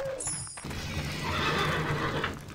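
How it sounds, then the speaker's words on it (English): A unicorn creature in the 2005 video game Fate lets out a loud, drawn-out horse whinny, shrill at first and then settling into a long rough neigh, with no talk over it. "Die, unicorn. Kill this cool horse."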